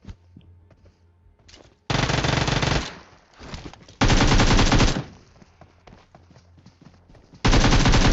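Bursts of automatic gunfire in the BGMI battle royale game, three loud sustained volleys separated by quieter gaps with faint in-game movement and ambience.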